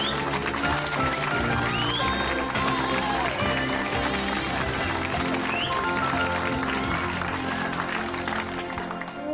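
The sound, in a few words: studio audience applause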